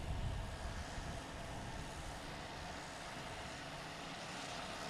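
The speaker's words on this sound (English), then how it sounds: "get the first Spirit plane backing out of here" Steady engine roar at Boston Logan Airport as a Spirit Airlines jet pushes back from the gate, a distant constant drone with a slightly louder swell at the start.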